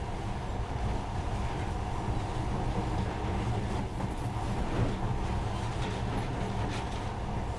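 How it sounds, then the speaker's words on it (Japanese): A monorail train runs in the video game Metro Last Light, giving a steady, dense mechanical rumble and rattling drone that continues without a break, with no voices over it. "でも今はこのモノレールが魔法に見える。"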